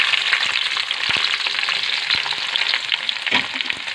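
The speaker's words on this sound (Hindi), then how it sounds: "ऑयल जो है हमारा गर्म हो चुका है तो अब हम इसमें डाल देंगे प्याज" Chopped onions dropped into hot oil for a chicken and potato curry, a loud continuous bright sizzle with crackles and a few soft stirring knocks, heard close with no talk.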